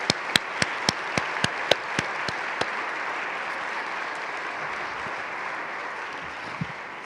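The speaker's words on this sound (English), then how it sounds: "This is your time to clap again." A crowd at a Walrus Talks Impact evening at Carleton University breaks into applause; a few sharp, distinct claps stand out early before settling into a softer, sustained wash of clapping.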